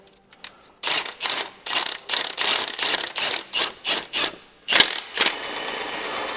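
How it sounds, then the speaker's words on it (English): A torque wrench ratchets on a Kenworth truck under restoration: about a dozen loud, close, evenly spaced bursts of rapid clicking, then a couple of sharper clacks. "I'll use a proper torque wrench"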